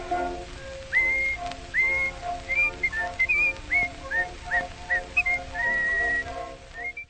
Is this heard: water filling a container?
no